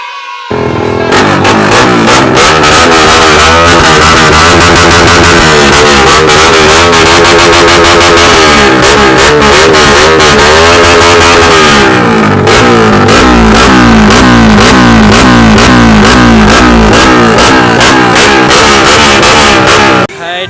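Motorcycles at a Honda riders convention in the Visayas rev their loud aftermarket exhaust pipes in a continuous, blaring roar with rising and falling pitch, very loud and close, sustained with barely a pause.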